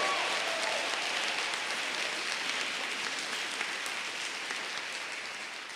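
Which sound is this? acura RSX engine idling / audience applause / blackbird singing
audience applause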